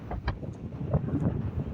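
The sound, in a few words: strong wind on Vagamon hills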